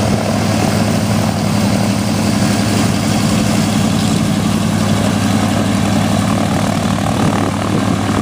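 A propeller airplane drones steadily overhead at an airshow, a loud, even engine-and-prop roar with a low throbbing pulse running for several seconds, no talk.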